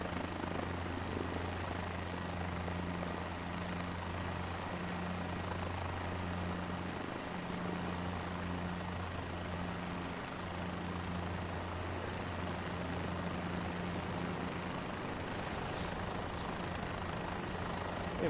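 A helicopter hums steadily in a flight simulator game, its engine drone and rotor tone droning continuously at low volume with no talk over it.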